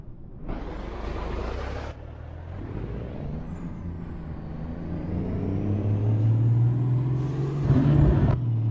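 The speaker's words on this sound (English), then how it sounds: "Let's put the parking brake on." A custom Peterbilt truck in American Truck Simulator, with a 1,088-horsepower engine, idles with a low diesel rumble while sharp hissing bursts of air brake release sound at the start and again near the end.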